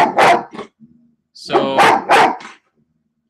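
A dog barks close by, a single sharp bark followed by a couple of louder barks after a pause, with a brief word spoken at the start.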